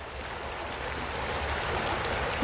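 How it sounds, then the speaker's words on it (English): A natural waterfall on a small creek in Southwest Virginia gives a steady, broadband rush of falling water, constant and fairly close throughout with no voices. "We got like a natural waterfall right there."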